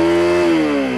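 Honda CRF250L dirt bike fitted with an FMF Powercore 4 exhaust revs hard and close, a loud sustained engine drone that holds steady and then eases slightly, with no talk over it.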